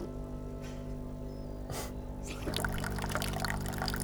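Hot water pours from the hot water button of a portable power station's appliance, a steady close trickle and stream that grows fuller partway through over a constant electrical hum.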